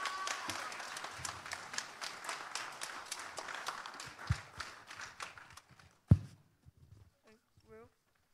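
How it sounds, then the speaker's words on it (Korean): A church congregation at a Sunday afternoon service claps as students come forward. Moderate applause fades out over several seconds, followed by a few footsteps and a thump, then a faint voice. "우리 친구 나오실 때 박수 한번 주시면 감사하겠습니다"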